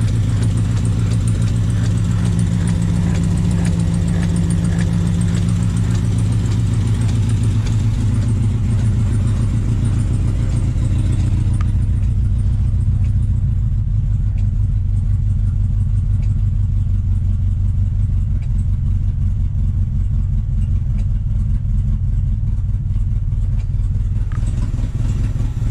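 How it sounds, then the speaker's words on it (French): A car engine restarted after ten years of sitting idle, its exhaust punctured, runs loud and steady at close range with a rough, rattling drone that eases and settles partway through. "L'échappement est crevé, ça évidemment on l'entend."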